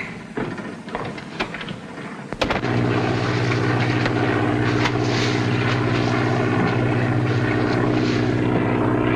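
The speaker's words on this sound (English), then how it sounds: "There's a plane coming." A propeller airplane drones steadily and loudly overhead in a 1939 film scene, its engine hum rising sharply after a couple of seconds and then holding a constant, throbbing tone as it approaches.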